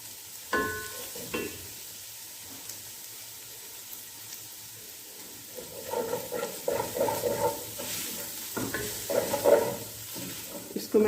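About half a kilo of chicken being stirred into a pot of soup, with a soft sizzle, scattered scraping strokes that grow busier and louder in the second half, and a brief faint voice early on.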